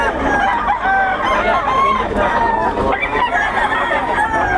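A crowd of chickens and roosters at a market in Bocaue, clucking and calling loudly and close, with overlapping cackles and an occasional crow, and people talking faintly underneath.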